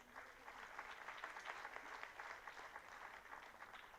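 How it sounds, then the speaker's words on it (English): Audience at a college centenary curtain-raiser ceremony giving a round of applause, a soft, even patter of many hands clapping throughout, heard from a distance. "May I request the audience to please shower them with a round of applause"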